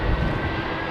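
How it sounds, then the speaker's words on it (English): An Egypt Air Airbus A320neo departs Heathrow runway 27R with a loud, steady low roar of jet engines that holds for about a second. "Egypt Air 320 Neo, isn't it?"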